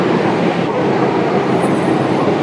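The Darjeeling toy train at Ghum station gives off a loud, continuous rumbling roar of rolling carriages, heard close up with no clear breaks.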